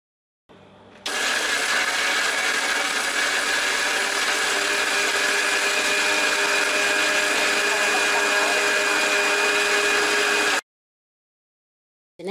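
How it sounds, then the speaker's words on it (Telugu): A mixer grinder jar pulverises dried red chillies, toor dal, curry leaf flowers, salt and tamarind into spice powder, a loud, steady whirring roar that starts abruptly, runs about nine seconds without pause, then cuts off. "ఎండుమిర్చి, కందిపప్పు, కరివేపాకు పువ్వు, ఉప్పు, చింతపండు మిక్సీ జార్లో వేసి మూత పెట్టి ఇప్పుడు మిక్సీ చేద్దాం."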